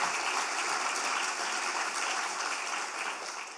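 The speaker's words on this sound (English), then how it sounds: "please, a round of applause for our angels" A festival audience at a book talk claps steadily, a thick even roar of applause that holds loud throughout and tapers slightly near the end.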